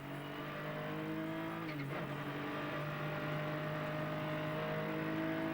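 A field of GT1 race cars, a McLaren F1 GTR and a Porsche 911 GT1 among them, roars away from a standing start on the Zhuhai circuit, a dense, steady wall of engine noise heard from a distance.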